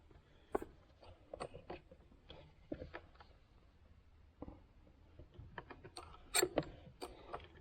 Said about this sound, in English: now we're ready for a wrench on that